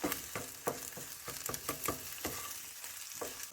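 Food sizzles and fries on a grill, with a steady crackle and repeated scraping and stirring clicks, close and fairly quiet, with no talk.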